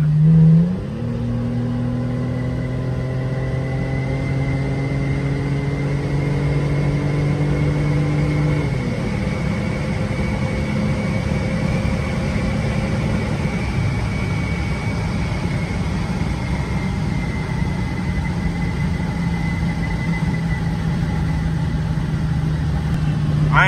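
A Mercedes W210 sedan accelerates hard along an open straightaway under a gloomy sky. Engine pitch climbs steadily through a gear, drops at a shift, then settles into a loud, sustained drone inside the cabin.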